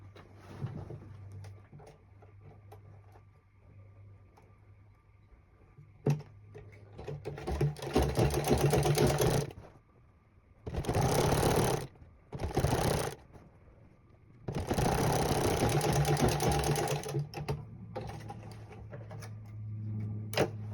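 Sewing machine stitching down a folded fabric edge for a two-piece shorts set, running in several loud bursts separated by pauses, with a low hum underneath and no talking.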